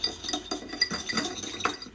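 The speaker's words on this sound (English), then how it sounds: "Pour that in, then give it a stir." A spoon stirs unflavoured gelatin into cold water in a small ramekin, making quick light clinks and scrapes for about two seconds with no talk.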